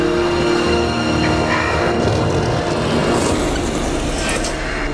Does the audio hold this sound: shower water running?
no